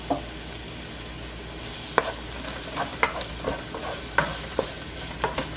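Boiled smoked herring sautéed with a small piece of tomato in a frying pan, quiet sizzling under sparse scraping taps of a spoon stirring every second or so.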